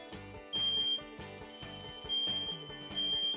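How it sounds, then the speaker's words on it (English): A home smoke detector sounds during a button test, giving repeated loud, shrill pulsing beeps in a steady rhythm with no talking. "When testing your smoke detector, press the test button and listen for the alarm."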